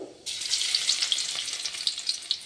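Garlic drops into hot oil already popping with cumin and mustard seeds for a radish greens stir-fry, starting a loud, steady sizzle with crackling pops that carries on alone to the end.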